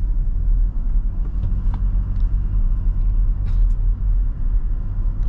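A Toyota Innova Reborn cruises at night on a smooth road in third gear, its steady low engine and tyre rumble continuous throughout with no talking.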